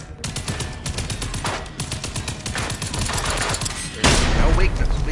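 Hip-fired gunshots in Generation Zero, dense rapid bursts of close, loud automatic fire over a few seconds with a heavier blast near the end.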